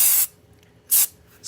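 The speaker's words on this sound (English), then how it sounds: "spraying a little blob on" Spray can of adhesive spraying onto a fabric mask: two short, close hissing bursts separated by a pause, with a third burst starting at the end.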